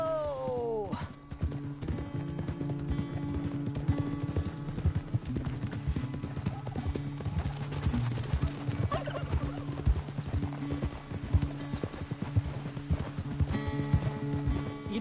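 Horse hooves clip-clop in a steady rhythm throughout in the video game Red Dead Redemption 2, with a horse whinnying at the start and ambient background tones underneath.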